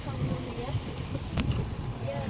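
A catamaran moves across open water with wind buffeting the microphone and a low rumbling wash beneath, while people talk nearby.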